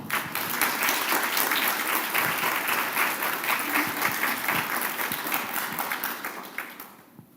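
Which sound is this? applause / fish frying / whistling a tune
applause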